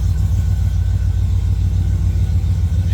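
A 1995 Ford F-150 Eddie Bauer with headers and 3-inch exhaust idles after its first start in months, a loud, steady, deep rumble with a lumpy pulse throughout.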